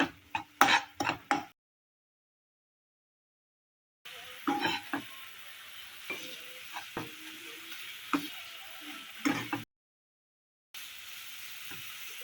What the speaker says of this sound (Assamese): এতিয়া এইখিনি ভালদৰে ভাজি থাকিব লাগিব।